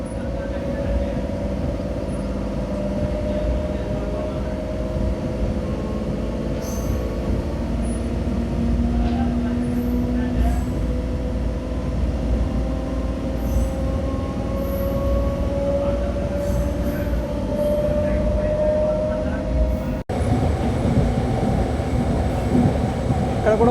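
A MEMU express train runs between Machilipatnam and Gudivada on Indian Railways, giving a steady, close rumble with a continuous humming drone throughout.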